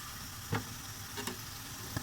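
Soybean oil sizzles steadily in a hot pan, a continuous close crackle with a few brief louder pops and scrapes, no voices.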